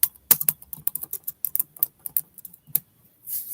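Fingers type on a computer keyboard in quick, uneven bursts of crisp clicks, close and fairly quiet, with short pauses between keystrokes and a soft rustle at the end.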